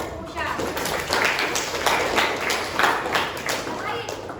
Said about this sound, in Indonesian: Oke, bagus, tepuk tangan untuk Musya.